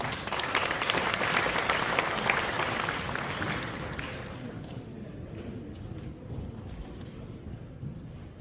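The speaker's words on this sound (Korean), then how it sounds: "정경찬 팀장님 큰 박수로 맞이해 주시기 바랍니다" Audience at a residents' briefing on an integrated apartment reconstruction applauds to welcome a presenter from a real-estate trust company, broad sustained clapping across the room that is loud at first and then tapers off to a softer patter.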